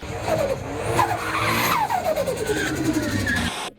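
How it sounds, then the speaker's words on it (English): A noisy car skids with squealing tires, producing loud, sliding pitch sweeps over a continuous engine roar for several seconds before cutting off abruptly. "another noisy car. Making all sorts of funny noises."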